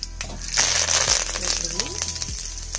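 Freshly picked curry leaves hit hot oil for a village-style country chicken curry, bursting into a sharp sizzle that swells and then settles into a crackle, with someone talking over it.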